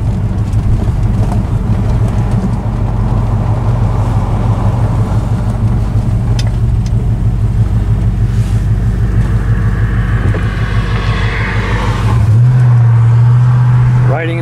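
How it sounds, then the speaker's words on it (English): A Chrysler 300J drives on the road on the way to Road America, its engine giving a steady, loud drone from inside the car that rises as it accelerates near the end, with voices talking over it. "Riding in the 300J on our way to the Road America."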